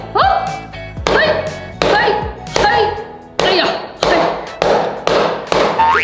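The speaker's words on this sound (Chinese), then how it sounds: "重要的是我们砸金蛋" A small hammer strikes a hard plastic toy golden egg, giving about eight sharp knocks in a steady rhythm, each loud near thud followed by a brief rattling ring.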